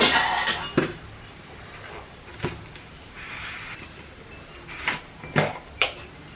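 Pieces of papaya clatter into a metal bowl with a little water, making several sharp clinks and knocks at irregular intervals, close and fairly loud against a quiet kitchen background.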